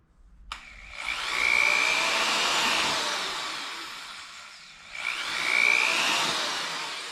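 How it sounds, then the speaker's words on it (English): A handheld power drill boring holes while building a wheeled crate solar generator, two whining bursts that spin up and down in close succession, loud and near with no talk. "I'll just grab my drill"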